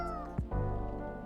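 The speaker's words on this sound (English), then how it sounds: "Do you have a new pet cat?" A cat meows in the video game Coffee Talk 2, one short clear meow with a brief rising cry in the middle, close and alone.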